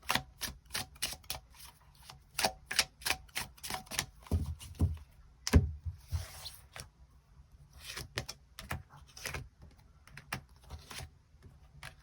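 Tarot cards are shuffled and drawn on a table, giving a quick run of crisp, dry taps and flicks in uneven bursts, close and quiet, with no talking.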